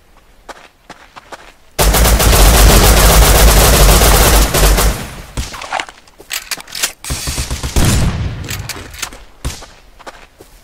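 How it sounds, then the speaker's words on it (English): Sustained automatic gunfire from across the street in the video game Rust, a loud dense burst lasting a few seconds, then scattered single shots and thuds, with no talking. "The dude's shooting across the street."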